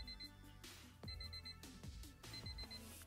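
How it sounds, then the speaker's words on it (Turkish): A small electronic locator alarm in a QCY T4 wireless earbud chirps in short high-pitched beeps, repeating in bursts with brief gaps, close and fairly quiet. "kulaklıktan bir alarm sesi çıkıyor ve kulaklığın yerini bulmanızı sağlıyor"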